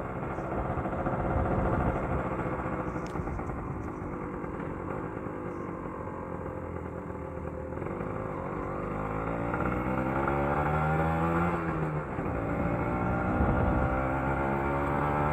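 Two-stroke Kawasaki Ninja RR motorcycle engine with a replaced throttle, a steady mid-pitched drone on a test ride, rising and falling with gentle revving throughout, close and fairly loud with no talking.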